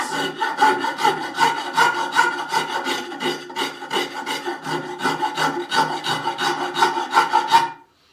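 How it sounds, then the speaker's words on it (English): A finer rounded rasp files steadily over wood in a workshop, smoothing out deep gouges; close, continuous rhythmic rasping strokes with no talk, ending abruptly. "So this is just a finer rounded rasp, and I'm literally just using this to take out the deep gouges."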